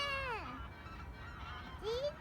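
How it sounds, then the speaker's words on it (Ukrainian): Geese in flight honk in a few clear, descending calls, fairly faint and distant against a steady outdoor hush. "Багато птахів полетіло. Може це гуси?"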